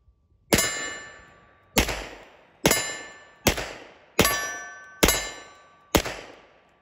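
Seven sharp metallic clangs ring out as bullets strike a steel bolt target, fired from a Phoenix Trinity gun; each impact is loud and bright with a ringing decay, spaced roughly a second apart with no talking.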